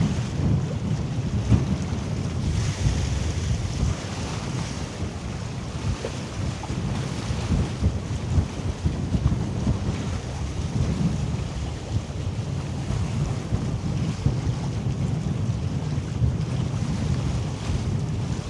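A ship passes through Hamburg harbour, its low engine rumble steady and continuous alongside water and heavy wind noise on the microphone, with no talking.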